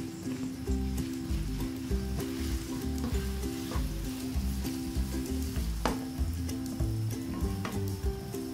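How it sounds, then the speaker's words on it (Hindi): Onions brown in hot oil for an egg biryani, giving a steady, close, continuous sizzle. Occasional stirring clinks and scrapes sound over it, and no one speaks. "उसके बाद हम इसमें प्याज जो है उनको ब्राउन करेंगे"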